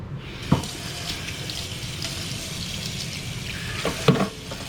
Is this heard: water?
yes